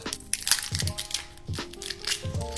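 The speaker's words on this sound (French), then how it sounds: "On va donc ouvrir la chose, déballer cette douceur." Plastic wrapper being torn open around a scorpion lollipop, close crinkling and crackling in short bursts with brief pauses between handling moves.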